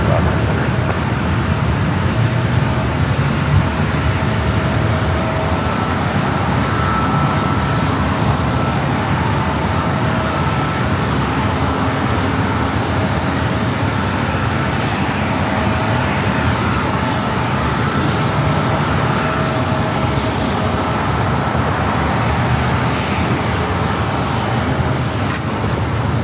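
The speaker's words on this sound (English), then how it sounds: "British Airways continues its taxi down Bravo, heading down 3, 11 power, jump on the east Bravo to runway 27" A British Airways airliner taxiing toward runway 27 at San Diego airport makes a loud, steady jet engine roar that holds constant for the whole stretch, with faint radio voices underneath.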